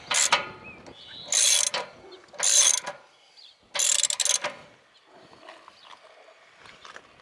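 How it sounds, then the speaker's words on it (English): A ratchet and 1-1/16 socket tighten a Suburban-style anode into an RV water heater, giving four loud, close bursts of rapid clicking separated by short pauses, then fainter metallic handling. "we're going to use a 1 1/16 socket to tighten it up"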